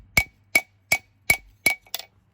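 A hammer strikes hot steel while forging a skinning-knife blade from an old hayrake tine, six sharp ringing blows spaced about every 0.4 seconds, close and loud, with no talking.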